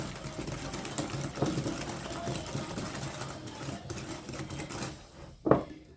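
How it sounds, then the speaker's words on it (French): An electric hand mixer whirs steadily through lemon cake batter, a continuous mid-level buzz with small clinks against the bowl, ending in a louder knock. "Je vais mettre ma batteur aussi"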